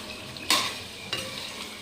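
Chicken pickle mixture with ginger-garlic paste being stirred in a pan: two sharp scrapes of a spoon against the metal over a soft, steady sizzle.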